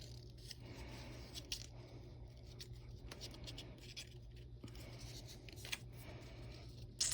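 Paper is cut with scissors for a kaleidoscope star craft, giving quiet, close snips and crisp rustles at an irregular pace over a low steady background hum.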